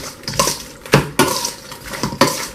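Seasoned chicken being mixed around in a bowl, with wet squelching, rhythmic sloshes and clinks of the bowl in several close, fairly loud strokes.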